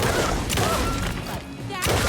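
Loud gunfire from the video game Alan Wake 2, a dense burst of shots filling the moment with a short lull before another blast near the end, mixed with game noise and a voice.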